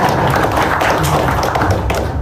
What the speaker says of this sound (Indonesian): Jadi kalau ada tepuk tangan yang keren nggak?